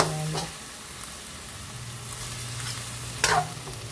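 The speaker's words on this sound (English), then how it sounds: "masaute ko na siya with fish sauce" Onions and tomatoes sautéing with fish sauce in a pan, giving a steady close sizzle with brief stirring scrapes at the start and again near the end.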